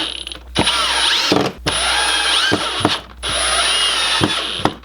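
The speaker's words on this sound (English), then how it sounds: "I'm going to try and drill these as straight as possible" Power drill running in three long bursts with a ratcheting whine, driving pocket hole screws straight down into a wooden board, with brief pauses between each screw.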